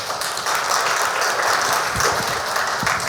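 An audience at an ICAI investment conference applauds with steady, fairly loud clapping that fills the hall evenly throughout, with no voices on top.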